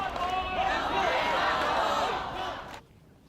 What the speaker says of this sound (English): in Toronto, a large crowd gathered to protest Hong Kong's leader and an extradition bill